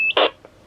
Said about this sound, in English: we're getting the Roger beep.